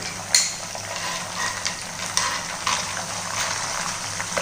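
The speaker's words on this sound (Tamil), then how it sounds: "ரொம்ப எண்ணெய் சூடாக இருக்கிறதுனால இது போடும் போது டப்புன்னு கொஞ்சம் தெரிக்கும்" Aloe vera dropped into very hot oil in an iron kadai, a sharp pop at the start, then a continuous sizzling, spitting hiss with a few sudden spatter bursts, close and with no voices.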